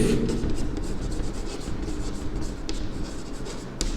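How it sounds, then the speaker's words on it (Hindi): Pen writing on paper during a maths lesson, a steady scratchy rubbing of strokes running continuously and close by, with a small tap near the end and no speech. "तो मैं लिखता हूँ"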